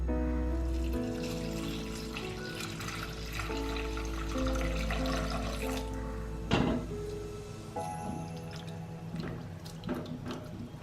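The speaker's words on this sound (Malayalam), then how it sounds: "ഇനി നമുക്ക് എടുത്തു വെച്ചിരിക്കുന്ന തേങ്ങാപ്പാൽ കൂടി ചേർത്ത് മിക്സ് ചെയ്യാം." Coconut milk is poured into a simmering Karimeen pearl spot fish curry and stirred in, a soft liquid splashing and trickling against the pan with light utensil clinks, while steady background music plays underneath.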